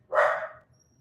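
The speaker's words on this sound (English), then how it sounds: "those are my dogs that are barking" A dog gives a single loud, close bark that fades quickly, followed by faint low background rumble.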